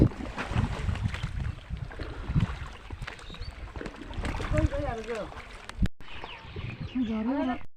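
Steady rushing of a boat moving along a flowing river in Assam, with wind buffeting the microphone and a person talking over it throughout.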